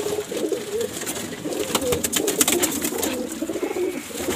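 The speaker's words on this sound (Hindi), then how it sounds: "ये एक मोतियों वाला कबूतर है" A pearl-patterned breeder pigeon coos steadily and close by, its low rolling calls repeating throughout with little pause.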